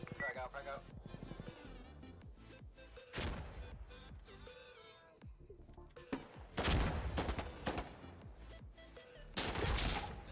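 Gunfire in the video game Insurgency, with rapid automatic bursts and single shots in uneven clusters alongside crashes and impacts, plus a voice talking between the volleys.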